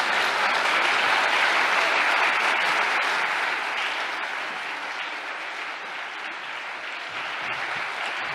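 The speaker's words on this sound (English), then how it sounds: "Please make some renewed applause for the Washington State Poet Laureate, Arianne True." Sustained applause from a large audience at an ACLU-Washington annual celebration honours the Washington State Poet Laureate after a poem, dense and loud throughout and easing slightly midway.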